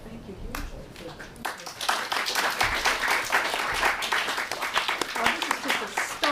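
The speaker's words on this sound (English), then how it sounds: "Well, this is just a start, okay, but already applause." Audience applause after a talk on moral interventionism and the Syria gas question, a dense wash of clapping that builds and holds steady, with voices murmuring underneath at the start.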